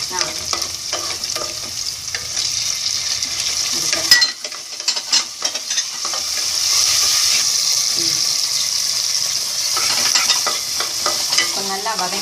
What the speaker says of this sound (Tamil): அதாவது தக்காளி பூண்டு வெங்காயம் இதெல்லாம் நல்லா வதங்கணும்